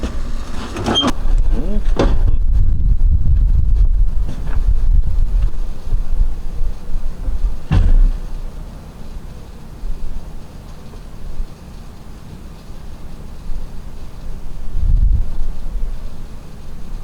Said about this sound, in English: If that wind would go down.